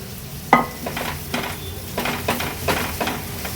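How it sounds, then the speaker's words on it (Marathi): Ground kharda paste fries with onions in a pan, opening on a sharp metallic clank of a spoon, then repeated stirring scrapes over a steady close sizzle. "आता ह्यात आपण हा जो खरडा वाटून घेतलेला तो ॲड करूया"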